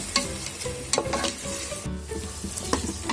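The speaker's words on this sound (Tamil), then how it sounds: "தக்காளி சேர்த்து நல்லா வதக்கிக்கோங்க." Chopped tomatoes frying in hot oil and being stirred in a pan during biryani cooking, a steady close sizzle broken by repeated scraping stirs, with no talking.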